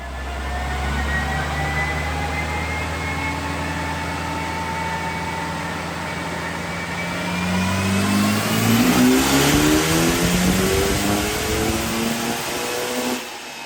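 A Mitsubishi Lancer Evo 8 revving on a dyno, its engine climbing steadily in pitch through a long, loud pull before dropping off abruptly near the end.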